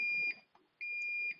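Alarm panel in a HikCentral security system demo emits two loud, sustained electronic beeps with a short gap between them, clean tones with no talk over them.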